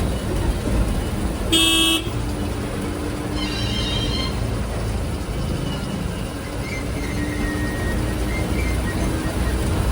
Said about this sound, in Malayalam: ബസ് ഇപ്പോൾ വിതുരയിലെത്തി